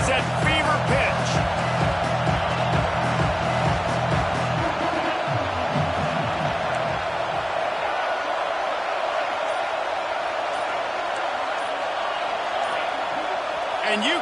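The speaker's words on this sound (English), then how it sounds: "this crowd is at fever pitch" Loud, constant stadium crowd roar fills a third-down red-zone play in the College Football 26 video game, a dense wall of cheering noise with a low rhythmic rumble early on, while a commentator talks over it.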